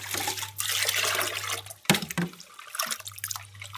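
Fish pieces being rinsed in plain water after a salt wash, with splashing and running water close by and a steady low hum underneath, broken by a brief pause near the middle.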